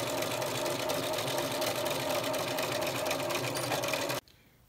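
A sewing machine stitches fabric for a dress bodice, running at a steady, continuous whir for about four seconds before stopping abruptly, leaving only faint room tone.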